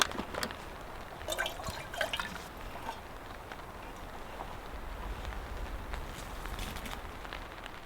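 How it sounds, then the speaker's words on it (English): Light rain drips onto a camp tarp in the wilderness, with scattered soft taps and patters over a faint wet background hiss, quiet and close throughout. "This is the lightest rain of all time. I mean, you can hear it on the tarp"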